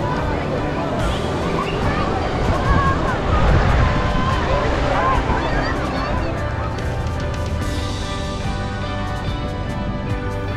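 Sea waves at Kanyakumari, where three seas meet, roll in as a loud, continuous surf roar mixed with strong wind buffeting, with crowd babble in the background.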